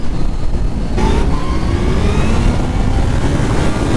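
A 200 HP Kawasaki ZH2 motorcycle engine pulls hard while riding on a back road, its loud, close engine roar rising in pitch as it accelerates, mixed with steady wind rush.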